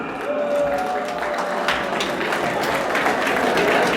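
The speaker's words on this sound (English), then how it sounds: "Please give a big round of applause to Mr. Farouk Muntazzli." Steady applause from a crowd at an evening gala fills the room, dense and continuous, with a faint tonal whistle or feedback line early on.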